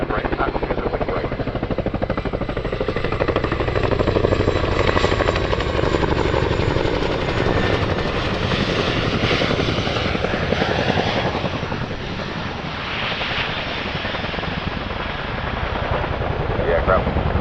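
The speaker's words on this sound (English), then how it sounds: "We'll rapidly decelerate the aircraft and turn using some pedal." Loud, close Chinook twin-rotor helicopter at the Cosford airshow, decelerating hard and turning during a role demo, its heavy rotor thump and turbine roar steady throughout with a shift in pitch midway.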